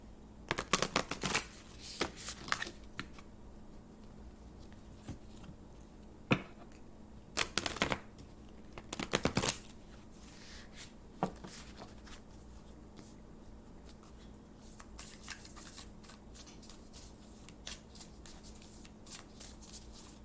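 A deck of tarot cards is shuffled and cut in repeated bursts of crisp riffling and flicking, close and fairly quiet, with short pauses between the bursts and no talking.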